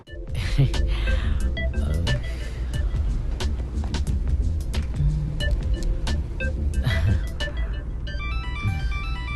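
A car engine hums steadily with road noise as the vehicle pulls away, voices talking faintly over it and a few short tonal beeps near the end.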